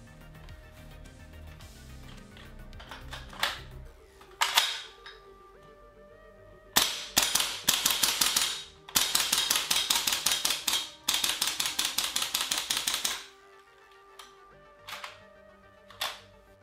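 Umarex VFC MP5 SD3 gas blowback airsoft gun firing: a few single shots, then long rapid strings of crisp, snappy reports at a fast cyclic rate, loud and close, ending with a couple of isolated shots.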